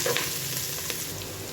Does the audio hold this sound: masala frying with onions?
yes